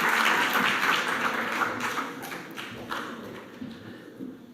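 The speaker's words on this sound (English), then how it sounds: "A big round of applause, please" Audience applause at a film award press conference, a steady wash of clapping that starts loud and slowly thins and fades over a few seconds.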